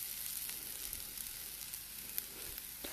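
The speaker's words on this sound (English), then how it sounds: "turn the heat down to low and dump in your potatoes" Grated potatoes frying in a hot pan over low heat: a steady, faint, even sizzle with light crackles and no voices.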